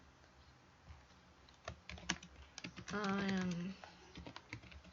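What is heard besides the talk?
typing on a computer keyboard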